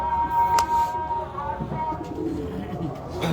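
Pigeons coo softly in the background of an indoor room, low murmuring calls scattered over a steady hum with a voice speaking at moments.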